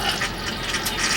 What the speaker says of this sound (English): Toilet fills with the touch of a pedal. The water will run in